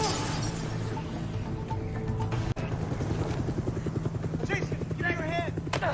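Helicopter in a scene from the TV series Titans, a steady rhythmic rotor chop running under dialogue and music, with a sharp crash partway through.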